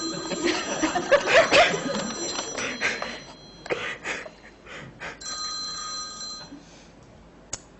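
A telephone rings in short repeated bursts while a live panel audience at an archivists' conference chuckles softly, as a call goes out to a records hotline.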